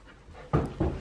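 A dog pants and whimpers up close in two short, breathy bursts that come quickly one after the other.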